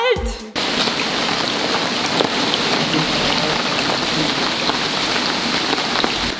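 Heavy rain pours onto an outdoor swimming pool, a close, constant hiss of countless drops splashing the water surface, after a brief noise at the start.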